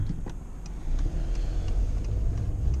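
A Mercedes W124 engine's low rumble swells as the car pulls away, with faint ticking in the background.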